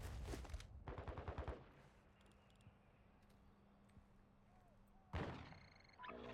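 Bursts of automatic gunfire in the video game DMZ: a loud rapid volley at the start, a quiet stretch, then another sharp burst near the end.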